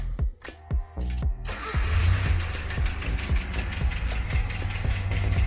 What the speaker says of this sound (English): Alright, I'm gonna start the engine now.